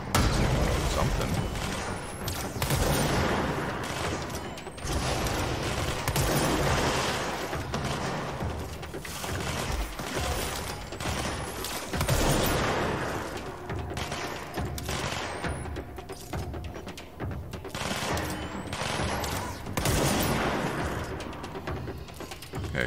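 Gunfire in the video game Control: repeated loud bursts of shots and heavy thuds pound in clusters, close and punchy, mixed with booms and mechanical clatter over a continuous dense din.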